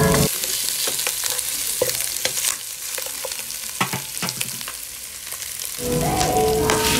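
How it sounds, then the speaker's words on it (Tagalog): Humba pork sautéing in a pan until dry, with steady close sizzling and scattered scraping clicks of a spatula, the frying hiss swelling louder near the end. "So ayan, igisa natin siya guys para maging dry siya."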